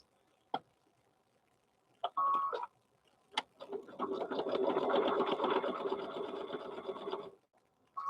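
A sewing machine stitches a stuffed bear, running in one steady, fairly loud burst of about four seconds after a few brief handling clicks, with no one talking.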